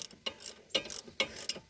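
A ratchet wrench clicks in rapid rhythmic strokes, three quick bursts, close and clear, as bolts are backed out during a rotor change on a 2011 Chevrolet HHR.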